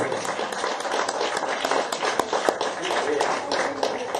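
An audience at a talk with the director of the Série Noire applauds in Pujols: a dense, continuous patter of clapping hands, loud and sustained, with voices mixed in.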